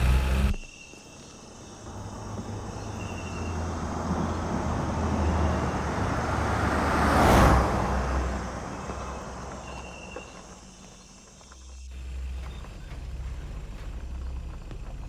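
A car passes on a road at night with crickets chirping, its engine rising to a loud whoosh as it goes by and then fading into the distance, followed by low rumble and insect sounds.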